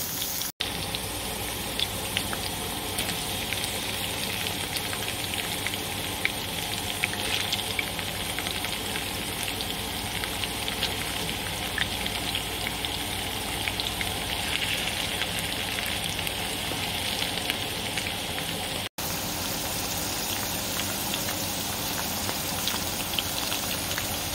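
Brats and potatoes fry in a lidded pan, a steady even sizzle with fine crackling pops that runs unbroken and fairly faint, with no voices.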